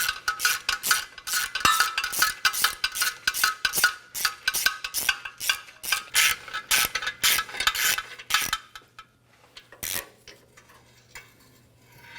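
Ratchet with an extension backing out a heated exhaust manifold bolt on a 2011-2016 Hyundai Elantra, rapid repeated clicking strokes in bursts, then a pause and a couple of final isolated clicks, close and loud.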